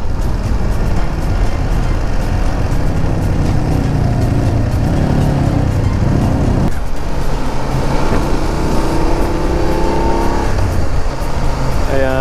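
A motorcycle rides along a winding, zigzag road near Olongapo in Zambales in morning traffic, its engine a steady, loud drone mixed with wind rumble that runs without a break throughout.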